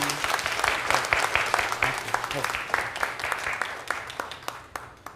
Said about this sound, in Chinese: 咱鼓掌来接纳伊